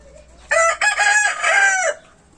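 A single Black Motley rooster crows nearby, a loud, multi-part cock-a-doodle-doo lasting under two seconds, with no one speaking.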